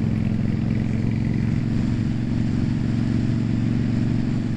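A motorcycle engine drones steadily and loudly on the road throughout, a continuous close rumble with no break.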